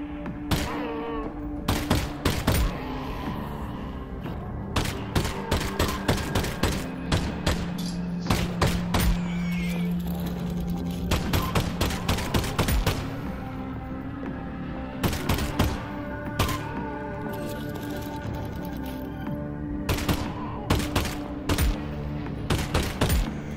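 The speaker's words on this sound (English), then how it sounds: "Cool shooting range here." Gunfire at a shooting range in the VR game Half-Life: Alyx comes in sharp, loud shots. Some are single and some come in quick bursts, spread unevenly across the clip with short pauses between.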